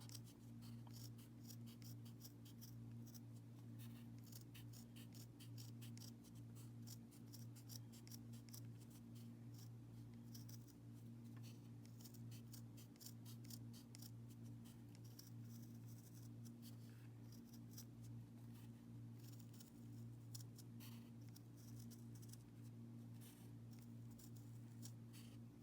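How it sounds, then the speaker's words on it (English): Scissors cutting a circle out of denim fabric make a long run of faint, quick snipping clicks over a steady electrical hum, with no talk. "I am going to cut out my circle from my denim fabric"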